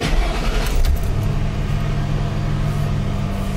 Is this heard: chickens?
no